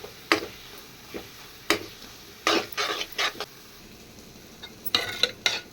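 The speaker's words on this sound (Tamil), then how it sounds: "தேவையான அளவு மசால் பொடி போட்டு நல்லா வதக்கிக்கணும்." Masala powder is sautéed in a pan for chana dal kuzhambu, with irregular close scrapes and clinks of a spoon stirring against the pan over a faint background sizzle.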